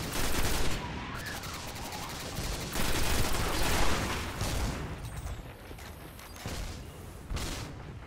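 Heavy gunfire from a big gun in the video game Destiny on Mars in the Black Garden, a dense, loud stream of overlapping blasts running almost nonstop, with stronger surges early and midway.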